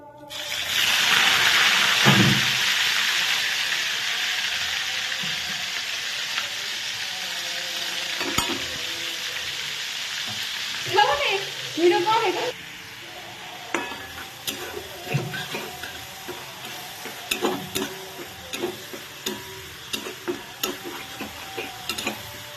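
Onion paste hits a hot pan with a loud, steady sizzle that slowly fades, followed by scraping stirs and clinks of a spoon against the pan.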